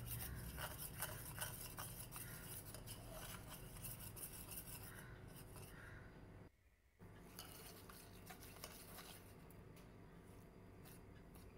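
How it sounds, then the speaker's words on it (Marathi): Oil, a spoonful of ghee and powdered sugar whisked together in a bowl give a steady scraping, rubbing stir against the bowl's sides. The stirring runs close and continuous, with a brief pause partway through. "1 वाटी पिठी साखर त्यामध्ये टाकून विस्करने व्यवस्थित त्याला मिक्स करायचं आहे"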